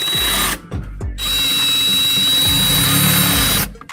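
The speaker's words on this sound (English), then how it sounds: "We are gonna be using our DeWalt drill" A DeWalt 20-volt max drill whirs steadily while driving screws into a metal storage cabinet, with a brief start and a couple of short stops before one long continuous run, loud and close.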